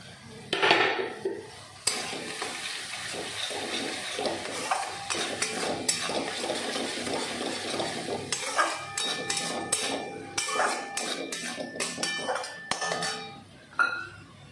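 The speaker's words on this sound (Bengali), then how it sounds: "এবার দিয়ে দেবো এই লঙ্কা কুচিগুলো।" Chopped green chillies are added and stirred in a kadai while cooking bhindi do pyaza, with clinks and scrapes of a utensil against the pan over a soft sizzle and sharp knocks in a rapid burst near the end.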